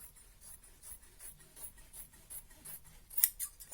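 Scissors cutting through a circle of paper folded in half while making a mask, a quiet, steady series of small close snips about a quarter-second apart.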